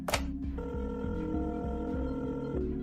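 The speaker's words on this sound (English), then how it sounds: "He walked slowly to the phone, took a deep breath, and then dialed." A telephone is dialed in a steady series of regular clicking pulses over a humming tone, with no voices.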